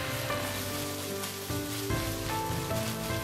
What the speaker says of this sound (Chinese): 油热后倒入鸡蛋液，炒至凝固，然后炒散